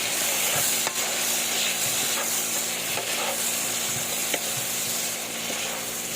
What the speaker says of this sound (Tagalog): Ilagay na natin yung ating sibuyas, guys, at ilalagay na natin yung ating shrimps na pinakuluan natin sa sodas